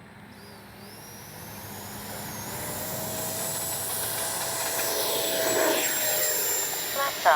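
An FMS 64mm Futura RC jet's electric ducted fan spools up for takeoff, a rising whine and rushing hiss that builds steadily over several seconds, with a short spoken call over it.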